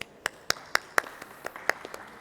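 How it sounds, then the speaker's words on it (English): A sparse round of applause at a digital governance conference, a handful of distinct, sharp claps spaced out over a couple of seconds, thinning toward the end. "let's thank them all with a big round of applause"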